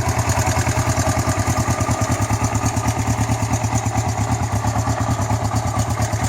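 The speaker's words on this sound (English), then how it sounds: "and engine is running very well." A restored 1987 Kawasaki GPZ305 (EX 305) motorcycle engine idles steadily close by, a loud, even throbbing pulse with mechanical clatter holding constant throughout, no voices.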